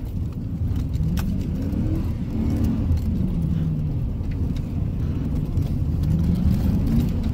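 A racecar drives a track while understeering, its engine a continuous close drone with road and tire roar for several seconds and no speech.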